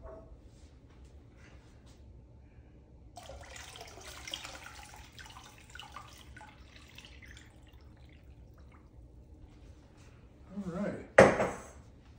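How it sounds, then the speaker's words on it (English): A gallon of water pours into a cast iron pot being prepared for electrolysis cleaning. A soft, steady splashing rush runs for several seconds, followed near the end by a brief louder clunk. "Put a gallon of water."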